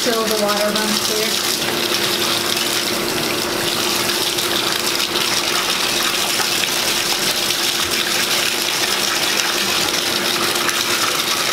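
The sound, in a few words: water running while rinsing hair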